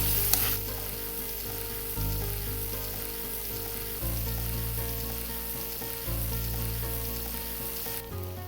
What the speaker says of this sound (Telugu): సో ఈ పీసెస్ అన్నీ యాడ్ చేసుకున్నాక చక్కగా ఫ్రై చేసుకోవాలి.